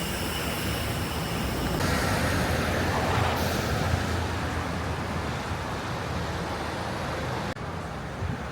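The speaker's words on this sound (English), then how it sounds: "let's get past the hustle and bustle of this station. It is a busy station." Continuous loud rumble of passing trains and vehicles fills a busy London train station, a dense roar of transit noise with no clear voices.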